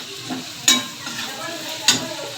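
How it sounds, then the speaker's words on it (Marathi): Chopped onion sautéing with turmeric in a pan over a low gas flame, giving a soft steady sizzle close by, broken by two sharp metallic stirring clinks. "हळद टाकल्यानंतर कांदा चांगला परतायचा। कमी गॅसवरतीच ठेवायचा,"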